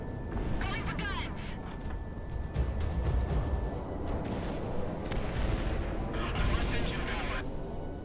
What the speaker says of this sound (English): Going for guns.